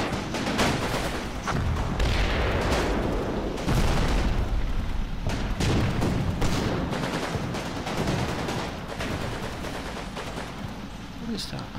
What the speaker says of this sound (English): they're getting small arms firing